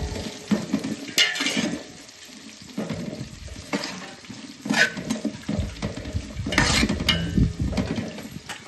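A spatula stirs chicken curry in a frying pan, giving repeated rough scraping and clattering strokes over a faint oil sizzle. The strokes come in uneven bursts every second or so, close up, with no talking.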